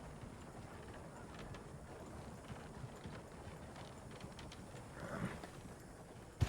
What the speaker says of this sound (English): Oh no, please don't kick me, horse.